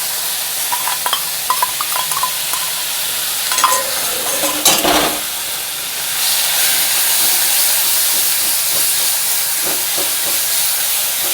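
Ginger, garlic and onion paste hits a hot pan and sizzles, with stirring scrapes and clinks early on, then settles into a loud, steady frying hiss near the microphone.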